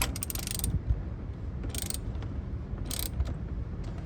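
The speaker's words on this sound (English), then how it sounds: "in this case, we're going to just use a wrench. We tighten this back up." A wrench tightening the steering wheel bolt on a Corvette C6 during a carbon fiber wheel install, giving bursts of ratcheting clicks against a steady low mechanical hum, close and alone without speech.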